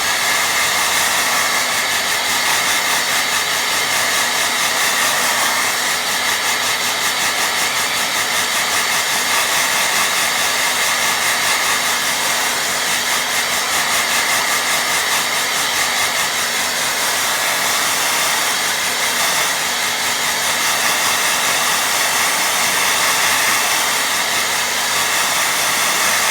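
A hair dryer blows steadily and loudly at close range to dry a watercolour painting, a constant broadband whoosh with a faint hum that holds unbroken for the whole stretch.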